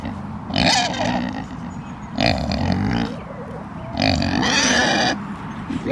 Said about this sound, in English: these pigs are a tornado. Loud tornadoes.